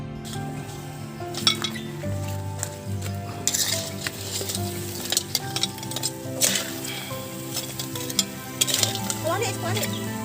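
Crabs and octopus with crispy garlic stirred in a pan, metal utensils clinking and scraping against the pan over a steady sizzle, with a little faint talk.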